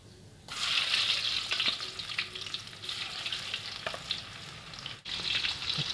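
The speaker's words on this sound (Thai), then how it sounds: "ทอดชุดต่อไปเลยนะครับ" Steady, crackling sizzle of fish frying in hot oil, loud and close, with brief stirring clatters and a short pause near the end.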